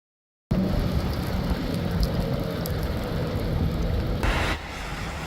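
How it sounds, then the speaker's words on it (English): Steady rain pours during a storm on the Central Coast, a dense continuous hiss that starts abruptly and holds at an even level, easing slightly toward the end. "Rain falling throughout the day here on the Central Coast."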